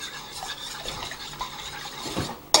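A spoon stirs a teaspoon of syrup into water, giving a soft, continuous swishing and light clinking that stays faint throughout, then ends in a brief sharper knock.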